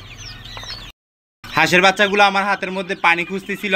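Ducklings and a Brahma chicken in a brooder give high, chirpy peeps and soft clucks. A brief silence follows, then a person talks steadily over the birds.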